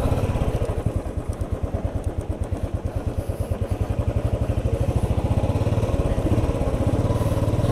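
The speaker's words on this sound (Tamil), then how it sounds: "ஒரு பீச்சில் பைக்கை ஓட்ட" A motorcycle engine putters in a rapid, steady rhythm close by on the sand of Kanyakumari Beach, with a rough, labored sound throughout as the bike sinks into the sand.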